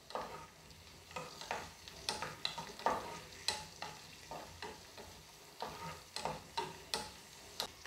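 Cashew nuts roast in hot coconut oil in a pan for a Kerala mixed-vegetable theeyal, giving a soft crackling sizzle broken by a steady rhythm of sharp ticks and scrapes as they are stirred, close and fairly quiet.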